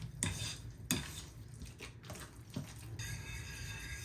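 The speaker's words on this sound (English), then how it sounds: "Mash this all together, stir it together." A utensil stirs and mashes Parmesan mashed potatoes in a pot, with a couple of sharp metallic knocks against the pot early on, then softer scraping and mushy stirring.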